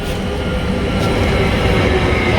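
Railway noise at a station near Mantes-la-Jolie, a steady loud rumble of a train with a faint metallic squeal, continuous throughout with no talking.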